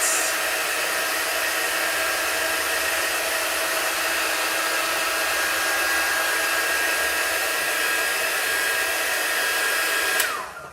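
A hair dryer blows steadily and loudly at close range to dry a freshly made chalk print, holding an even whooshing roar for about ten seconds before switching off abruptly at the end.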